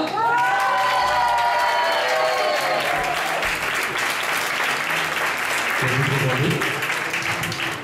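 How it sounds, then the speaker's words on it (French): A large crowd at the Miss New Caledonia 2013 pageant gala applauds steadily throughout, with cheers and shouted voices rising above the clapping early on. "on applaudit bien fort"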